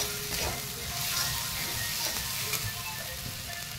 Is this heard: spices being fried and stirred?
yes